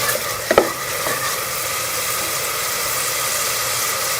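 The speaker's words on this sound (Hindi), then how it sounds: "लहसुन अदरक का पेस्ट डाल के इसको 1 से 2 मिनट जो है वो हम फ्राई कर लेंगे।" Garlic ginger paste frying in a pan with lightly golden onions for moong dal: a steady loud sizzle and hiss, with a couple of brief clatters of stirring near the start.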